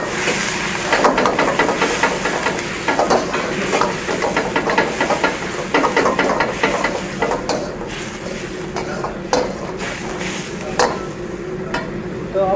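Stock water poured into a hot pan for pad kra pao, a loud continuous sizzle and hiss with crackling bursts and stirring scrapes, easing slightly over time.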